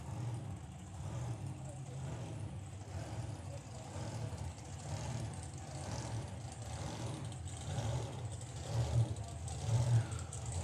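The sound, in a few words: supercharged drag racing van engine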